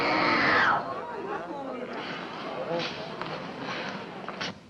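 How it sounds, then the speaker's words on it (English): Drama class students letting out a loud group scream that breaks off into excited crowd chatter and shuffling footsteps, close and busy, with voices talking over one another. "Don't stand there and scream."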